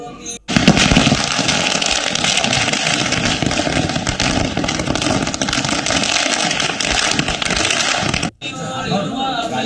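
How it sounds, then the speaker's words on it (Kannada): Firecrackers burst nonstop at a celebration by party workers outside a temple in Babaleshwar, Vijayapura, marking a prime minister's oath-taking: a dense, loud, continuous crackling roar that runs for about eight seconds before cutting off briefly. "ಪಟಾಕಿ ಸಿಡಿಸಿ ಸಂಭ್ರಮಾಚರಣೆ ಮಾಡಿದ್ದಾರೆ"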